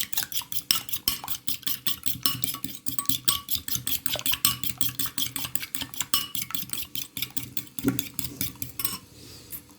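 An egg is beaten briskly in a bowl with a fork or whisk, producing fast, steady metallic clinking and tapping strokes that continue evenly for nearly ten seconds, close and clear with no talking.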